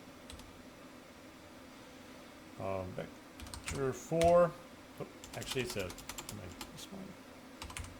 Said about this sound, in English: We're going to type in vector, vector 4.